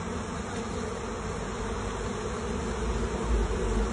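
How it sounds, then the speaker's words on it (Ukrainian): Bees buzz in a dense, continuous hum as they fly around a nucleus hive outdoors, moderately close and steady with no speech. "Бджілка літає, суєтиться"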